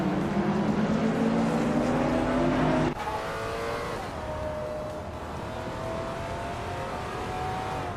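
Several race cars in a racing video game drone at high revs, their engine pitches rising and overlapping. After a sharp cut near three seconds, one steadier engine note carries on under a constant mechanical roar.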